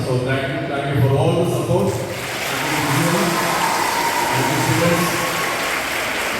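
Applause from an audience at BCM College in Kottayam swells after a brief pause and continues as a steady, dense wash of clapping for several seconds.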